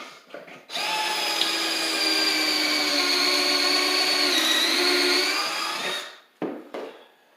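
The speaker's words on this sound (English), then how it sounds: "and drill one pocket hole." A drill bores a pocket hole through a Kreg jig into a wooden cabinet piece, a steady high whine lasting about five seconds before it spins down, followed by short handling clatter.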